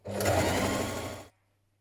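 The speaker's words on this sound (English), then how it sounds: "you can repeat with the second row of stitches" A domestic sewing machine runs a short continuous burst of straight stitching for about a second, sewing a second row of stitches on a fleece hoodie, then stops abruptly into silence.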